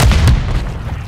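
A stun grenade detonating during Call of Duty MW3 team deathmatch gameplay, a single loud, close booming burst that decays quickly.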